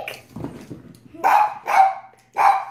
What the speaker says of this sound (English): That's Lucy barking in the background